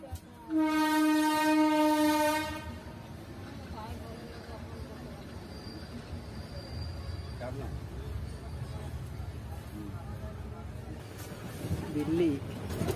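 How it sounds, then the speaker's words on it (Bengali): A train at a railway crossing sounds a loud, sustained horn for about two seconds, then a low rumbling roll of rail cars continues underneath, with people talking nearby. "একটা ট্রেন দাঁড়িয়ে আছে দেখো।"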